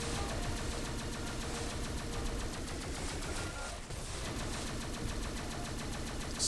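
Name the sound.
homing missiles firing in Neon Chrome video game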